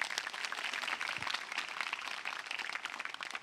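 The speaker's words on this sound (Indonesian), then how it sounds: "Tepuk tangan dong." Studio audience at an Indonesian national political talk show breaks into applause, a dense, even patter of many hands clapping, fairly soft and steady throughout with no voices over it.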